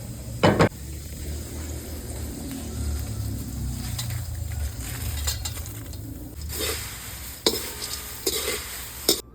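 Spice mix is stirred into roasted poha chivda in a pan, a steady scraping and rustling of dry flakes with sizzle underneath and a few louder clanks of the spoon against the metal.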